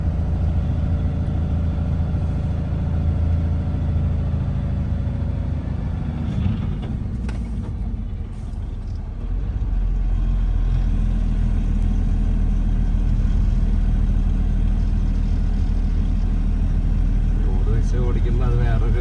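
A loaded Bharatbenz 4832 16-wheel double-shifted truck engine rumbles loudly and steadily up close, dipping briefly before settling back into a deep drone, with someone talking over it.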